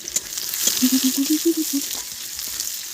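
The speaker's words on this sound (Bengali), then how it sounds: "পেঁয়াজটাকে ভেজে নিই বন্ধুরা" Onions fry in a pan with a bright, continuous hiss and sizzle, and a short run of faint tonal notes rises in the middle.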